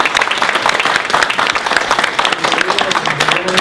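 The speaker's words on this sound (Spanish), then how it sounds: "Por favor, un aplauso para ella." Loud, dense applause from an audience at a community center tribute event as a guest, Colombia's Consul General, is welcomed, continuous throughout with a faint murmur of voices underneath.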